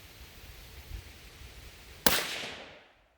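A single sharp gunshot from a restored Stevens 44 rifle fired with powder loads, loud and close, with a ringing decay fading over about a second after quiet background.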